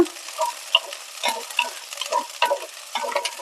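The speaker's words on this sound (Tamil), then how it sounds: "இப்போது சின்ன வெங்காயத்தை சேர்த்துக்கலாம் இதில் சேர்த்து இந்த நெய்யில் ஒரு ரெண்டுலேருந்து மூணு நிமிஷம் நல்லா வதக்கிட்டுக்கோங்க" Shallots sautéing in ghee for a Tanjore palace-style sambar, a steady close sizzle broken by repeated scraping stirs and spatula clinks, with no voices.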